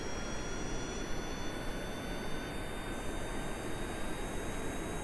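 Jet plane engine roaring as it accelerates for takeoff in Kerbal Space Program, a steady, dense, broadband roar with thin high whining tones, constant and moderately quiet with no talk.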